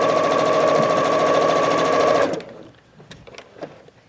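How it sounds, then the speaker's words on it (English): Sewing machine stitching half square triangle quilt pieces, running loud and steady for about two seconds before stopping, followed by faint fabric handling clicks. "I'm going to reach around here and get my other side of my half square triangles sewn"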